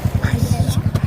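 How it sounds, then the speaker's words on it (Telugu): A motorbike putters close by with a rapid, regular engine pulse through the whole moment, under faint voices. "బైక్ వస్తుంది"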